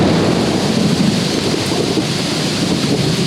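Loud, steady downpour of heavy rain with thunder rumbling at a worksite where a shipping container is being converted into a cabin, a dense continuous roar with no voices.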